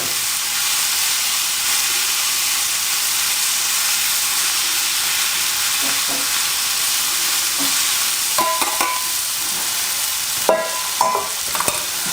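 Mushrooms and onions sizzle steadily in a hot pan, a constant hiss throughout, with a few sharper clicks and scrapes of stirring near the end.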